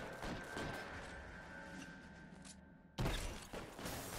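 Gunfire in the video game L.A. Noire comes as a burst of rapid, loud shots, then a short lull and another sharp volley near the end.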